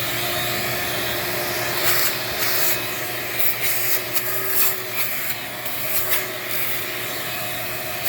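A vacuum cleaner runs steadily inside a large PVC guinea pig cage, sucking up droppings with a constant whine and irregular rattling, scraping bursts as the nozzle moves across the floor, loud and close, with no talking.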